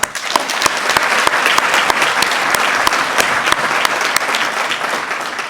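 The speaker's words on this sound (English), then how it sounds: "Join me in giving a round of applause to Cypress Girls Softball and Champion Baseball." An audience claps for a girls softball program at a city State of the City event, a dense, steady burst of applause holding loud and close for the whole stretch with no speech over it.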